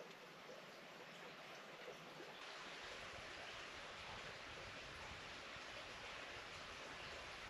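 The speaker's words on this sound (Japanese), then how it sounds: "水の音が" Water flows steadily in a mountain stream at night near an abandoned temple, a faint, constant broadband rush with no voices or other distinct sounds.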